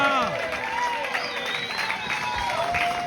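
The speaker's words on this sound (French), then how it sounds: "on peut applaudir la présidente quand même" Audience at a 40th-anniversary celebration of the Larchant Animation association applauding its president, a steady wash of clapping from a crowd with voices and shouts mixed in throughout.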